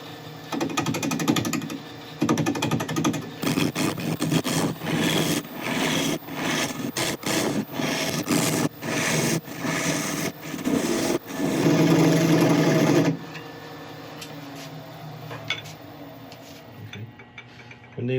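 A wood lathe spins a burl at about 750 RPM while a carbide cutter works into a tight area, giving a loud, steady mechanical whir with rough scraping and chattering bursts that cut in and out, fading to a quieter hum near the end.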